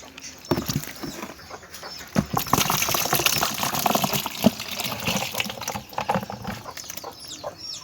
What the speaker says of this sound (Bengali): দেখুন কত আইটেমের মাছ, আপনাদেরকে ঢেলে দেখাচ্ছি।